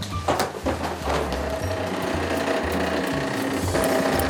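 A coffee roaster roasting coffee beans runs with a loud, close mechanical whir and a rhythmic rattling churn that continues without a break.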